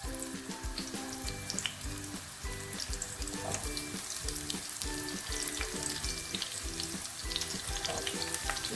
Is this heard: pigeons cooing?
no